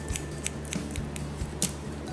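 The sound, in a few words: scissors cutting hair in a shoulder-length bob haircut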